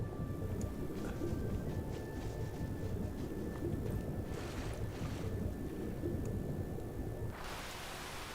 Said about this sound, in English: I need to get rid of the water sound.